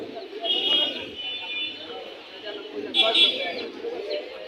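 Pigeons coo at a crowded pigeon market in Mirpur, Dhaka, soft throaty calls rising now and then from a steady murmur of nearby buyers and sellers talking.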